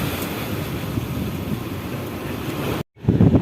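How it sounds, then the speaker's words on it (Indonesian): Strong wind at Bakauheni ferry harbour at night, a steady, loud rushing roar buffeting the microphone, cut off briefly near the end before a heavy gust returns. "Hanya anginnya saja yang sangat kencang ini."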